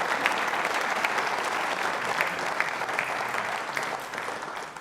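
Audience applause at a quiz show for trainee state civil services officers, a steady sustained round of clapping from a crowd, moderately loud and even throughout before tapering slightly at the end.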